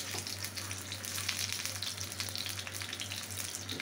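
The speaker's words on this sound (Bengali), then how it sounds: "ফ্রাই প্যানে আমার একটু তেল ছিল, সেটাতেই আমি একটু গরম করে নেব।" Stuffed pointed gourd (potol dorma) warming in a little oil in a frying pan gives a steady, close sizzle with dense crackling spits throughout and a low electrical hum beneath, with no talking.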